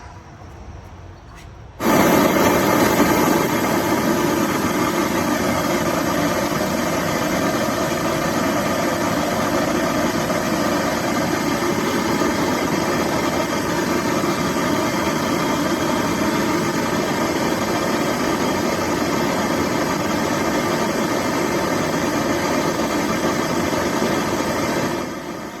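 A Hertz Mille Pro MPX 690.3 6x9 car speaker plays test audio at high volume, a steady, dense sustained tone that starts abruptly after about two seconds of quiet and holds continuously to the end.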